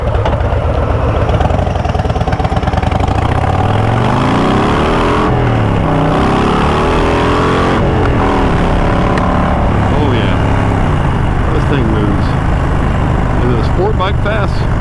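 A Harley-Davidson Low Rider ST motorcycle pulls away from a traffic light, its engine note rising and shifting through gears as it accelerates, loud and steady throughout with wind noise, while a rider's voice talks over it at times.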